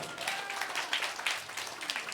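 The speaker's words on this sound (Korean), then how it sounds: "박수 해주세요" A church congregation applauding, a dense patter of many hands clapping together, steady and moderately loud throughout.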